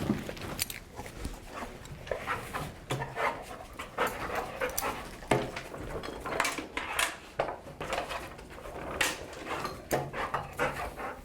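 A dog pants rapidly and steadily up close, with scattered clinks and rustles around it.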